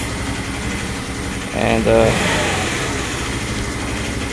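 A motorcycle engine idles at low revs in a steady, loud drone with a brief swell in the middle, and a voice speaks over it.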